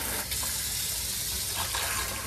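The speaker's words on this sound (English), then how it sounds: "Simply turn on the water switch right there, turn that on, coil spring faucet" Water runs from a coil spring faucet into a small campervan sink, a steady full hiss with slight splashing that holds at an even level throughout the short stretch, with no talking.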